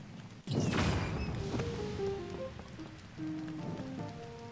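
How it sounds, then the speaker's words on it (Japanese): Steady rain pours in Zelda: Tears of the Kingdom at a lookout in the Lanayru wetlands, a dense close hiss of drops on surfaces with a sudden burst at the start, soft game tones and chimes sounding over it. "雨が多すぎ。"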